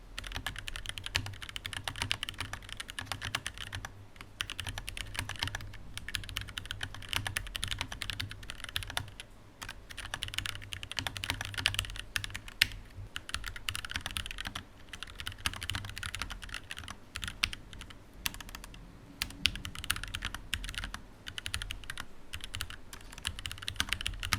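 Continuous clicky typing on a Kemove K68SE mechanical keyboard, a fast, uneven patter of key presses with brief pauses, close and fairly quiet.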